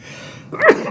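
A single sharp sneeze bursts out after a moment of quiet room tone, close and fairly loud.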